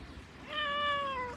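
A single close, clear cat meow lasting just under a second, rising and then gently falling in pitch, heard alone on a quiet morning.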